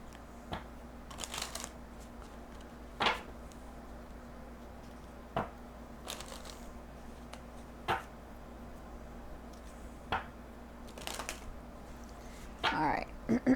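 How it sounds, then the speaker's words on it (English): Tarot cards shuffled close by in quick riffles and soft slaps, scattered bursts over a quiet steady hum, alone without talk. "Let me just shuffle this really quick for you."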